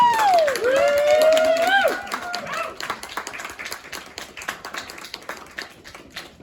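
An audience breaks into applause to welcome an artist at an arts space, with clapping and scattered cheers that build after a brief, swooping sound at the start. The applause stays lively and uneven, then thins toward the end.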